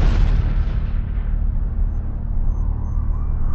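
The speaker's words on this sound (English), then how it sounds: "When Gary Powers was shot down, the president said, no more U-2 overflights." A deep, rumbling explosion effect for a U-2 spy plane hit by a Soviet anti-aircraft missile, heavy and sustained throughout with a low roar that slowly fades in its upper edge.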